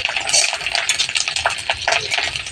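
Neem leaves frying in a pan, a bright, steady crackling sizzle with quick scraping stirs of a utensil, close and loud throughout.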